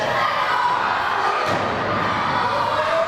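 A wrestling crowd jeers a wrestler during a match, a steady roar of shouting and booing voices filling the hall at an even, loud level throughout, with a faint thud partway through.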